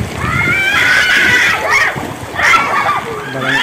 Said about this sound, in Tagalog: sobra-sobra na po ang tubig baha